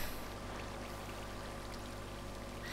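Water is placed and flows in Minecraft, a steady rushing pour like a stream, continuous and fairly close with no speech.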